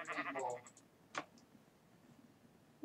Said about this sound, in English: Alright, I need to go kill the sheep.